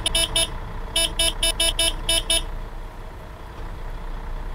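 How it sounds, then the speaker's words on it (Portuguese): Bus horn in Euro Truck Simulator 2 sounding in a burst of short honks: three quick blasts, a brief gap, then about six more in rapid succession, loud over steady low engine idle that carries on after the horn stops. "Deixa eu dar uma buzinada aqui, ó."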